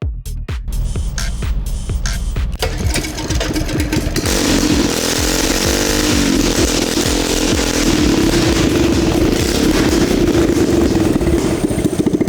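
A small Walmart motorcycle's engine sputters unevenly, then rises into a loud, sustained revving drone as a servo pulls the throttle, close and continuous with no talk.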